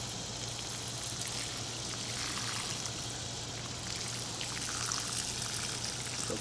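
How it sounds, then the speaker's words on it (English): Water mixed with nitrogen fertilizer is poured onto dry garden cabbages, basil and cilantro, a soft, continuous trickling stream at low level with a faint steady hum beneath and no talk. "I'm gonna water the garden up a little bit."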